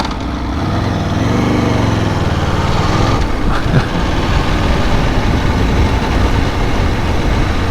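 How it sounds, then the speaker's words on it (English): An Aprilia Tuono Factory V4 motorcycle engine running loud and close under way, a dense buzzing drone that rises in pitch and then holds a steady, rough roar. "I can just feel this engine screaming at me"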